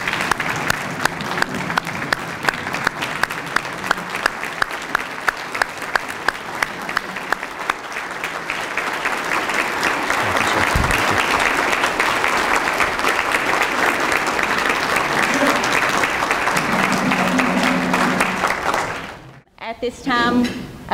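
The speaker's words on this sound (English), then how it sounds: "let's give Ted another round of applause" An audience at a tribute ceremony for Colonel Ted Crozier gives loud, sustained applause that swells and continues for many seconds, then stops abruptly.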